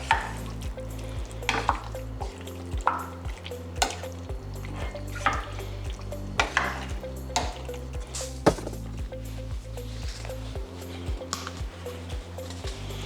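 Chicken pot pie filling stirred in a pan over medium-low heat: a spoon scrapes and taps against the pan in an uneven rhythm, with soft wet squishing and a low background hum, and no talk.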